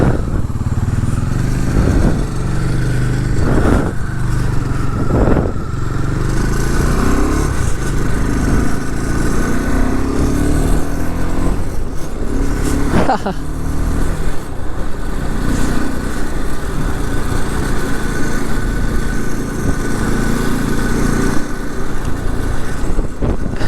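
KTM 390 motorcycle engine while riding, a steady loud buzzing drone with occasional revving surges and gear changes, close to the rider, wind noise underneath.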